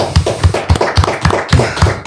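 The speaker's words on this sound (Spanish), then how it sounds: "Un fuerte aplauso, por favor, para el invitado siempre." A few people clapping in a steady, slightly loose rhythm for a guest on a talk show, close and fairly loud, with no voices over it.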